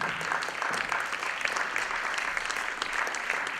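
An audience at a Swiss animation film anniversary event claps continuously and evenly throughout, a full room of hands with no speech over it.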